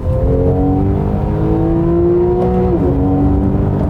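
A Porsche 911 Club Coupe engine drones loudly from inside the car, its pitch climbing steadily before a quick dip and recovery as it blips on a downshift to second gear.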